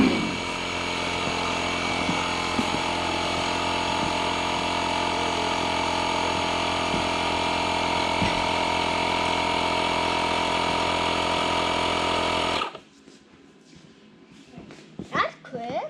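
A Kubota zero turn lawn mower engine runs loud and steady up close with a constant droning hum, then cuts off abruptly, leaving quiet handling sounds.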